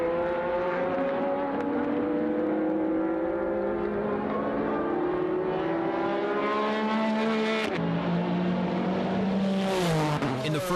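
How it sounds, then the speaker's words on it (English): Nissan GT-R and Toyota Supra race cars lapping Fuji in a JGTC race, their engines holding a loud, sustained high-pitched drone that climbs steadily, then drops sharply at a gear change before rising again, with no voices. "the GTR tried desperately to lose the Supras on the chase"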